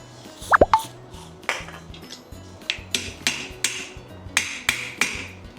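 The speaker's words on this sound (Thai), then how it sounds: "ค้อนตอกนะครับผม" Hammer tapping on a swivel chair caster wheel, a rapid series of sharp metallic knocks and taps, close and distinct, with no talking over them.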